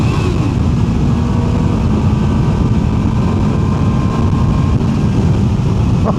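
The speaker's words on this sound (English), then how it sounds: "That exhaust note sounds unbelievable." A QJMotor SRK 921 RR motorcycle exhaust roars loud and steady while being ridden, a continuous close engine drone for several seconds with no pauses.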